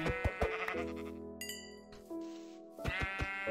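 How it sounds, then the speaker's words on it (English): Several sheep bleating in the video game Minecraft, a series of loud, close, synthetic-sounding bleats that overlap one another, with a few brief chime-like game sounds, and no talking. "Come on, sheep."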